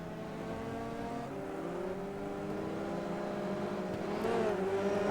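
Race car in the rFactor 2 sim racing game at Croft circuit, its engine note steadily droning and shifting pitch as it brakes and then revs up again, loud and continuous with no talk.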